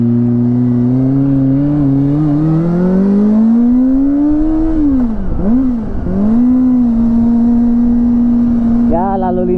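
A Kawasaki Ninja ZX-25R fitted with a Japanese WRS racing exhaust is ridden through light traffic, its high-revving four-cylinder engine whining up and down through gear changes, loud and close throughout.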